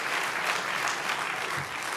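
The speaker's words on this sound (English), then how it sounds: "Give him a round of applause." Audience applause at an award ceremony, a steady wash of clapping from a crowd lasting the full two seconds at moderate level, with no talk over it.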